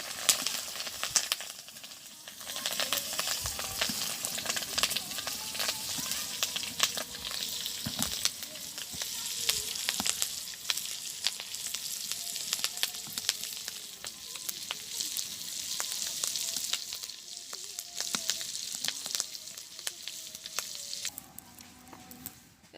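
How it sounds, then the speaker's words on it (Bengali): Egg frying in a wok-style pan in a village kitchen, a loud close sizzle and spattering crackle running throughout with irregular pops and brief stirring scrapes, no talk. "প্রথমে ডিমটা ভাজি করবো ডিমটা দিয়ে দিতেছি"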